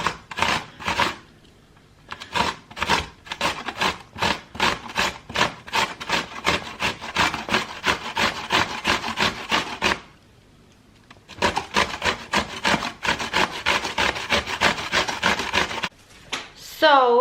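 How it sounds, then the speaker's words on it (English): A cucumber is grated on the medium holes of a box grater for tzatziki: quick rhythmic rasping strokes in two long runs, separated by a short pause, close and clear. "we're gonna grate it with a box grater. So I'm gonna use the medium-sized holes here, and then I'm just gonna grate this up"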